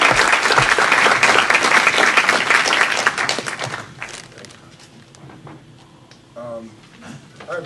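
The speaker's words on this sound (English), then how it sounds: "let's give a round of applause for Eric" Audience applause for a speaker at a Left Forum panel, a loud burst of clapping for about four seconds that fades into scattered claps and low murmuring.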